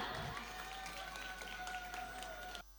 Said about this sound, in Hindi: तो तालियां भी तो होनी चाहिए जोरदार.